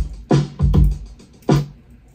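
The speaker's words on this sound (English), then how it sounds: "We got a little distortion on the drums just to add to the tone." Distorted drum beat from a studio song mix, with three heavy, gritty hits landing in a loose rhythm, loud and close with no voices.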